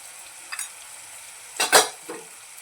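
Sambar masala and a little red chilli powder being stirred in a pan, giving a few short scraping strokes with a soft sizzle beneath, the loudest pair of strokes close together near the end.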